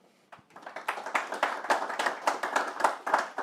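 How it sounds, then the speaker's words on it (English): Applause for panelists at a soil health and agriculture event, starting after a brief quiet and building into a modest room's worth of clapping with a few distinct individual claps standing out, close and steady. "How about a round of applause for them?"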